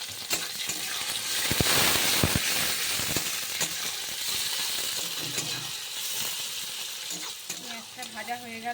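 Onions, bay leaf and whole green chillies fry with a steady sizzle in a pan, with a spatula stirring and scraping and occasional clinks against the metal, close and fairly loud.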